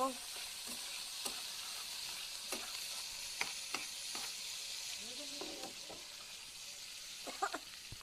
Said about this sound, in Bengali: শুকনা মরিচ, পেঁয়াজ, কাঁচা মরিচ, রসুন দিয়ে আস্তে করে আমরা ভেজে নেব